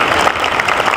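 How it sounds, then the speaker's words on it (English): Convention panel audience at an anime fan event applauds steadily as people walk up on stage, a dense, even clatter of many hands close by with no letup. "Let's give them a round of applause for walking up here"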